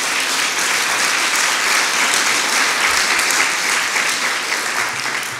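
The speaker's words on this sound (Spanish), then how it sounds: "den un aplauso al Señor por estos jóvenes que están en la iglesia" A church congregation applauding for the youth during a sermon, dense sustained clapping filling the room at steady volume, loud and continuous throughout.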